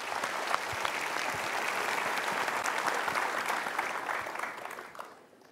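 A studio audience on the Mario Teguh Golden Ways talk show breaks into full, steady applause of close, dense clapping that holds for several seconds, then fades away at the end.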